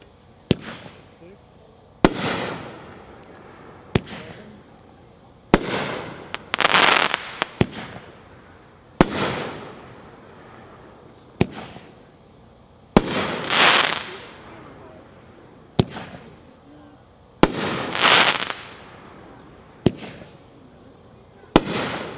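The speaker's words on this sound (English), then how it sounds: "Number 4, Back in Black by Mad Ox. It's part of the Rock the Night 1-3 case, 16 shots." Mad Ox Back in Black 16-shot firework cake fired outdoors, sharp launch thumps each followed by bursting booms and crackling, repeating in a steady sequence at moderate distance, with some voices in the background.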